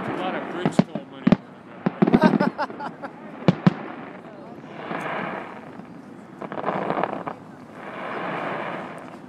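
Fireworks over San Francisco's Golden Gate Bridge at its 75th anniversary celebration: a run of sharp, separate bangs, then rolling waves of crackling bursts that swell and fade, with crowd voices faintly beneath.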